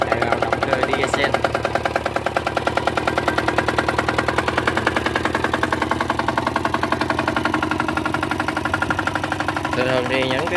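A Robin 60 mini tiller with a diesel engine runs steadily up close, giving a rapid, even knocking chug that continues throughout at a constant pace.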